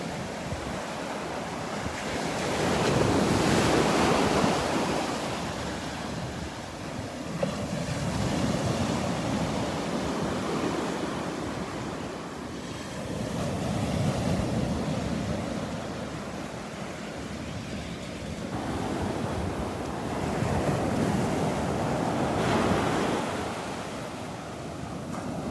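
Surf rolling onto the shore at Delnor-Wiggins beach on a morning walk, waves swelling and breaking in repeated slow surges every few seconds, with steady wind noise across the microphone and no talking.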